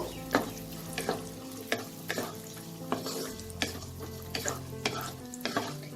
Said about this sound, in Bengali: এই তেলে আমি এখন কাজু আর কিশমিশটা দিয়ে নেব। দিয়ে এটা 2-3 মিনিট মতো একটু ভেজে নেব।